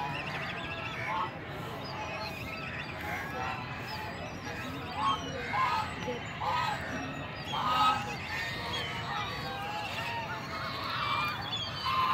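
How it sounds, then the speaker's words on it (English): A large flock of geese at Karachi Zoo honking repeatedly outdoors, calls overlapping at moderate distance over steady background noise. "Not some, but there are a lot of geese here."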